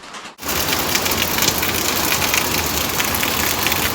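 Heavy monsoon-style rain pouring steadily in Mukteshwar in the hills, a dense, loud, unbroken hiss of drops on surfaces that begins abruptly and continues without pause.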